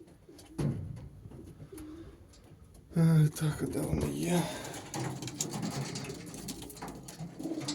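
Racing pigeon males cooing restlessly in a loft, repeated low throaty coos near and far, with someone speaking over them and some clattering in the background.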